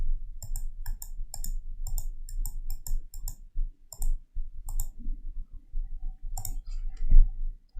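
Computer mouse clicks while drawing shapes in CorelDraw 2020, crisp close clicks in irregular bursts, quick runs of several then pauses, over a faint low background hum.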